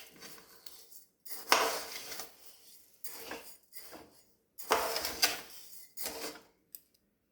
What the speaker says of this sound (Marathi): तांदूळ हलके भाजून घ्यायचे आहेत